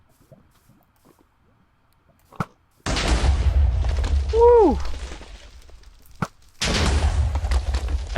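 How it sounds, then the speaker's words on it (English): Fire charges explode in Minecraft, two loud booming bursts with crackling tails separated by a pause, preceded by a small pop, while a voice whoops over the first blast. "I think the explosions from this aren't as powerful."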